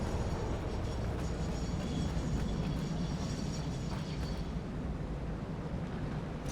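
Trains in the Satisfactory video game give off a loud, steady rumble, a dense rolling roar that stays constant throughout with no talking over it.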